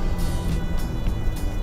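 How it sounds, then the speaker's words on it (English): A 1958 Corvette with dual carburetors roars steadily as it accelerates in second gear, a loud continuous low engine rumble throughout with no talk. "you can hear the roar of the dual carburetors opening up"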